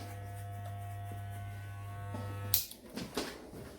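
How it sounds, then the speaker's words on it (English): Electric hair clippers buzz steadily at close range while cutting a man's hair at home, then cut off abruptly, leaving a few faint handling clicks and rustles. "just keep your clippers moving as long as you're keeping it within that line"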